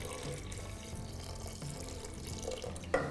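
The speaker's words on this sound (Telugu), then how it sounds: "దీంట్లో కొన్ని నీళ్లు పోయండి" Water pours steadily into a bowl of raw mutton kheema with ginger-garlic paste, a continuous close splashing stream that runs alone throughout and ends in a brief louder splash.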